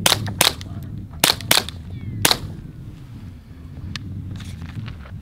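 A suppressed FN 502 .22 pistol firing CCI subsonic rounds: five sharp, fairly quiet reports in quick succession, two close pairs and a single, over steady outdoor wind and background noise.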